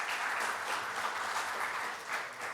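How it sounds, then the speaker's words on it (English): A conference audience at a security talk on deception applauds in a brief, steady burst of many hands clapping, moderately quiet and without speech. "A round of applause."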